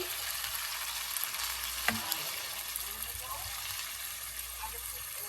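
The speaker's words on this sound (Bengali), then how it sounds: "গরম মশলা দিয়ে এখন এটাকে একটু ভালো করে মিশিয়ে নিচ্ছি।" Beef tehari mixed with garam masala stirred in a pan, a steady hissing sizzle with occasional soft scrapes and one sharper knock of the utensil, close and moderately quiet, while someone talks over it.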